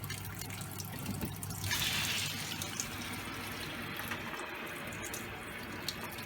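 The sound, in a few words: water stream from reverse osmosis unit with booster pump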